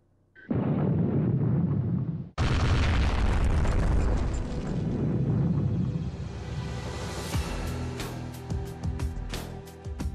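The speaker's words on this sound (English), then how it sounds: "Разрешаю взрыв." A deep rumbling mine blast erupts after a brief opening blast, followed by a long roar of falling rock and scattered debris crackling.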